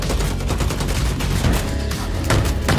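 Dense gunfire from NPC enemies in the video game Bloodhunt comes as rapid bursts of overlapping shots with sharp cracks and booms, loud and continuous across the few seconds.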